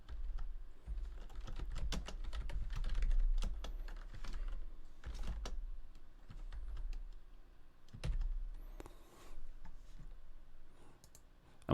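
Rapid, uneven keystrokes clatter on a computer keyboard as a component name is typed into BOSpulse 5.2 software, with close, crisp clicks continuing steadily throughout and no talking.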